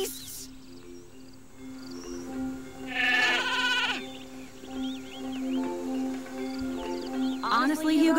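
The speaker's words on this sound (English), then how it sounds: "Honestly, Hugo, they're just sheep." Several sheep bleat in short, wavering cries over a steady electronic hum in the video game Skylanders: Spyro's Adventure, some calls overlapping, close and fairly loud.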